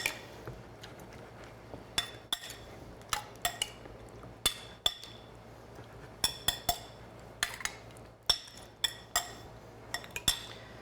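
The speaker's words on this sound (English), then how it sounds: "Now we can give those a quick bit of a stir" Peppers being stirred in a bowl, a utensil clinking against the dish in scattered sharp taps over a quiet, steady background, with no talking.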